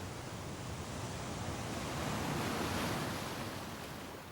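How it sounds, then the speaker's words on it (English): Ocean waves crash and wash onto the shore at Portballintrae on the Causeway Coast, a steady broadband roar that swells slightly midway, heard alone without any talking. "In the crash of the waves and the fresh air"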